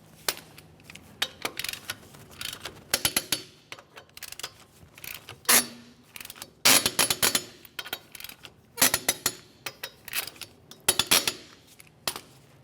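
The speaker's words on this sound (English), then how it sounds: "Now we can torque the lug nuts to 100 foot-pounds." A torque wrench tightens lug nuts on a 2005-2010 Chevrolet Cobalt wheel, giving a series of sharp metallic clicks and clunks in irregular clusters, close up and fairly quiet.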